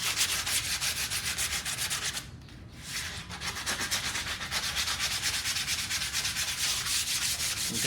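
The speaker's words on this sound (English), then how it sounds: "Take sandpaper." Sandpaper rubbed back and forth on a piece of PVC siding, a loud close continuous rasping with a brief pause partway through, then steady strokes resuming.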